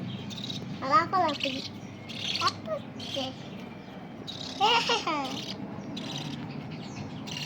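A pet bird chirps in quick bright bursts, a few rapid trills clustered together with pauses between, close by over a low background hum and faint voices.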